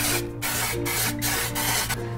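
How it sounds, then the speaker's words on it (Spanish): Cooking oil spray is misted into a gelatin mold in a home kitchen, giving a run of short, evenly spaced hissing bursts close to the mic, with no talking. "Y voy a estar usando aceite en spray"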